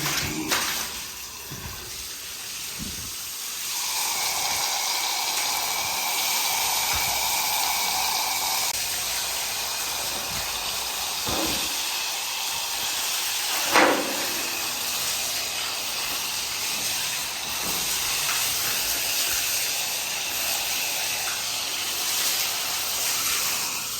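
An electric water pump motor drives a spray of water to cure new construction at an unfinished house, making a steady, close hiss and rush that continues unbroken with faint knocks.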